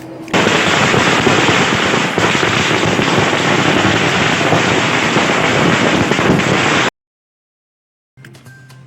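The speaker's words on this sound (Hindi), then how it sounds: "पटाखे भी छुड़ाए" Firecrackers set off at a welcoming celebration crackle in a dense, loud, continuous barrage for about seven seconds, then cut off abruptly into silence before faint crowd noise returns.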